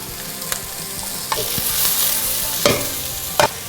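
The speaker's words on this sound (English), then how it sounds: "Throw in the ginger." Ginger stir-fried with onions in a hot pan, a loud steady sizzle close by, broken by several sharp scrapes and clatters of the utensil stirring, with no one talking.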